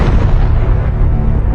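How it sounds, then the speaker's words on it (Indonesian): Anime bombing of coastal cannon positions brings a loud, rumbling wall of explosions, heavy low booms rolling continuously through the whole short stretch without any voices. "Ledakan di mana-mana, bikin pertahanan musuh kocar-kacir dalam sekejap."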